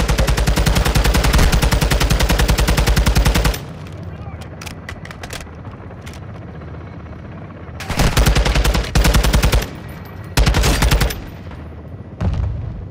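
Sustained machine gun fire from a gun run in Modern Warfare 2, loud and continuous at first, then dropping to a low rumble broken by further long bursts and single sharp shots.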